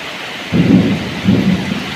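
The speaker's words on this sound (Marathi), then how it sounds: "बेकार कडकडता आहे" Deep rolling thunder rumbles in two heavy waves over a steady background hiss of rain, fairly loud and close, in a Konkan village storm.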